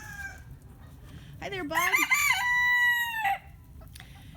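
Roosters in a yard with hens crow once in a long, loud call near the middle, with softer clucking before it, while someone speaks briefly.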